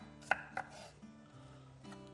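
An onion is finely chopped on a board, giving two or three sharp knife knocks near the start. Then come quieter kitchen sounds, faint and close, with no speech.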